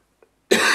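A single harsh cough bursts out from someone sick with covid and a sore throat, loud and close after a faint earlier catch of breath.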